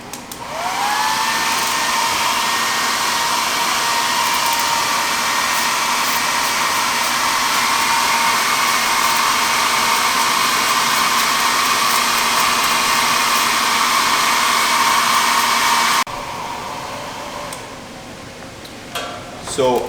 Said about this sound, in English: we are going to blow dry our aggregate using a blow dryer